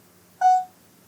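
A Samsung Galaxy phone's screen recorder plays one short, clear electronic beep of its countdown, with faint hum before and after.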